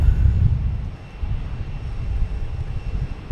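A Delta airliner taxis into position for departure at Boston Logan airport, its engines a steady low rumble with a broad hiss, moderately loud and continuous with no talk.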